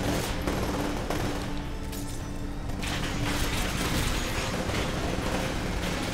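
Gunfire in the Titanfall beta, a dense fusillade of rapid automatic shots and crackling bursts, loud and nearly continuous over the full stretch with a heavier blast partway through.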